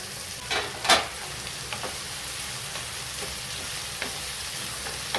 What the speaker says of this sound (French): on mélange un petit coup et on va laisser cuire gentiment